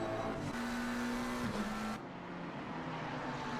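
Porsche and McLaren race cars battle at Silverstone in a racing video game, a steady engine note holding pitch before a quick downshift dip and then fading, with layered engine drones blending together throughout.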